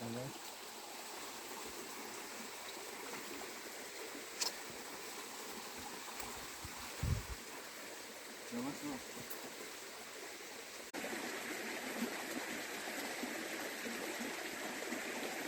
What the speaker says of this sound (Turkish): Dere kenarına geldik Hicri kardeşim.